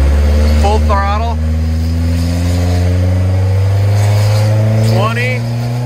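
A car accelerates at full throttle, its engine note holding loud and steady with a brief rising pitch, while a voice speaks over it.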